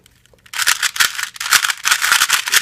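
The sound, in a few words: 2x2 Rubik's cube being turned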